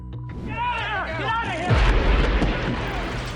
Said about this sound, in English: After the explosion